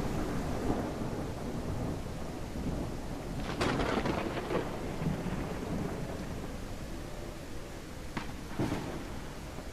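Steady heavy rain pours down while thunder rumbles and cracks a few times in a video game, fairly faint and continuous throughout.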